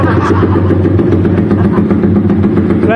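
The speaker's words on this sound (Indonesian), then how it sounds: "sekarang kita bakal cek sound dari si motor MI King Burnio spek 6840" A Borneo-spec MX King 215cc motorcycle engine runs steadily throughout, a loud, close, rough mid-pitched idle with an even pulsing beat and a brief blip near the end.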